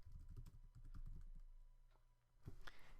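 Keys clatter on a computer keyboard while typing into an OS X Mavericks Mac, a quick, close run of soft clicks that pauses briefly before a final flurry of keystrokes.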